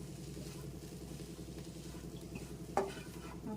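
Broad bean (chikkudu) fry is stirred in a pan with soft, rhythmic scraping over a faint sizzle, ending in a single light clink of the utensil, quiet and close.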